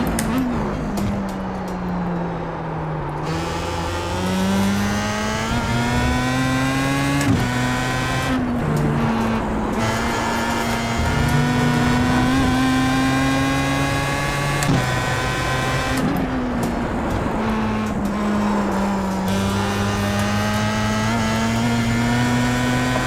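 Pro Mazda open-wheel race car engine lapping Brands Hatch in a racing game, a steady loud drone that rises and falls with gear changes, with a voice talking over it throughout.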